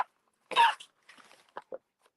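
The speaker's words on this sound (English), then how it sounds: "I gotta sneeze again." A person with allergies lets out one short, sharp sneeze, followed by a few faint breathy sounds in an otherwise quiet room.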